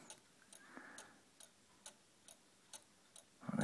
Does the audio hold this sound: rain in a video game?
no